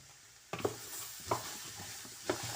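Grated carrots are mixed with oil and sugar in a bowl, with a few soft, spaced scrapes and thumps of a spoon over a faint background hush.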